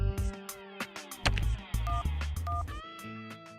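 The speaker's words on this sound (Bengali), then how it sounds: "একজনকে ফোন করছি" A series of short electronic telephone dial tones beeping in quick succession, layered over clicks and a busy background of other sounds, in an animated crime drama.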